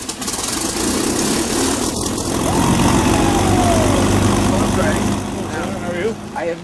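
Engine number 3 of a Halifax bomber cranks and runs, a loud steady piston drone with propeller rumble that holds nearly constant, close by on the ground.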